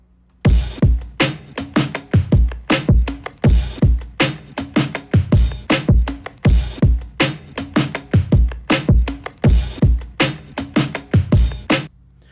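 A punchy electronic drum loop processed with Ableton effects plays alone: heavy kicks and crisp snares in a steady repeating groove, loud and close with a fat, compressed tail on each hit.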